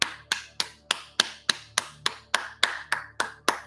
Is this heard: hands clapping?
yes